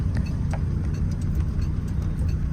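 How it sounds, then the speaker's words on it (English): Steady ticking of the clockwork self-cancelling indicator on a Citroën Traction Avant Light 15, regular clicks set against a loud, continuous low engine and road rumble inside the car. "clockwork self-cancelling indicators, just like on a 50s 2CV"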